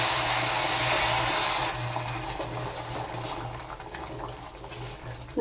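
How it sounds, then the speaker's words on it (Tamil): Water is poured into a pan of fried semolina while making banana kesari, a steady broadband hiss and gurgle of liquid hitting hot grains that runs through the whole stretch, fairly loud and close with no talk. "இந்த டைமில் நம்ம காய வச்சுருக்க தண்ணியை கொஞ்சம் ஊற்றி கொதிக்கிட்டே இருக்கும்."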